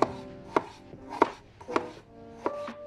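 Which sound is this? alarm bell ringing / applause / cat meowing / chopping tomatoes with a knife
chopping tomatoes with a knife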